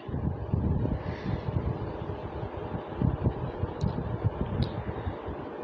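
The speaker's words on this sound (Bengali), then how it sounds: "ঠান্ডা ঠান্ডা বাতাস" Cool wind blows outdoors under an open sky, a steady low rumble of gusts buffeting the microphone without a break.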